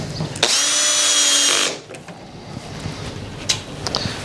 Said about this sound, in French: on pose une pièce, ensuite on la visse